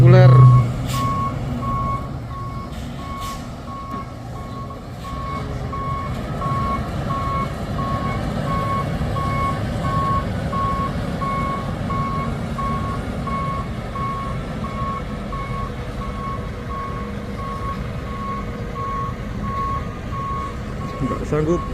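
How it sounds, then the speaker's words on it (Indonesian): A Fuso intercooler truck reverses up a hill road, its backup alarm beeping steadily and evenly for over twenty seconds above a rumbling diesel engine, with voices talking in the background. "satu unit truk Fuso intercooler."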